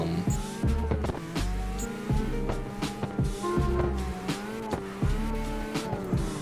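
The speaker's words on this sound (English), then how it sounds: "I'll show you guys how the car drives" A car in CarX Drift Racing Online drifts with a revving engine and repeated tire squeals, the engine note rising and falling as the car flicks through slides, loud and close.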